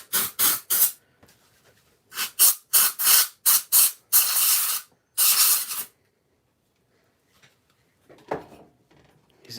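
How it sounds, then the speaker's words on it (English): Canned air sprays in repeated short bursts, some brief and some held for over a second, loud and close, followed by quieter faint hisses and rustling. "canned air spraying in his mouth"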